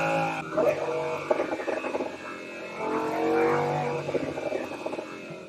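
Lamborghini Huracan exhaust roaring with its valve open, a loud sustained engine note that swells and fades through the clip with crackly surges, close by and with no talking over it.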